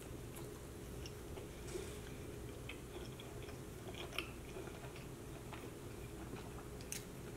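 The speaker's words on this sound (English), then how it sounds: "I really want to taste these nacho fries" Quiet chewing of Taco Bell nacho fries close to the mic, soft crunchy bites and mouth sounds over a steady low hum, with no talking.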